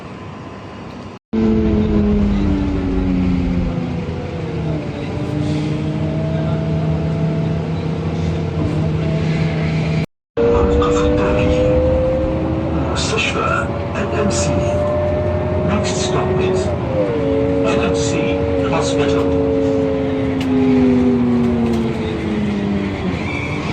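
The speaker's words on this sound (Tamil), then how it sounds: "ஒரு பஸ் வருது F22." A large vehicle's engine drones nearby, its pitch rising and falling as it approaches, loud and steady with brief cuts.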